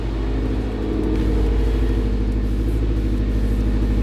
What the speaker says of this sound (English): The car actually sounds normal now